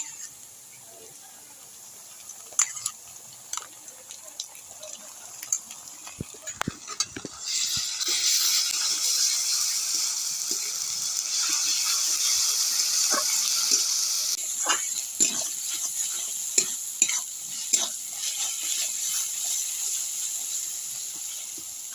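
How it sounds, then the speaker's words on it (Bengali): Ginger garlic paste fries in a pan for a Bengali chicken kosha, giving a steady hiss that swells in the middle, with scraping and tapping from stirring throughout. "আদা রসুন বাটাটা ভাজা হয়ে গেছে"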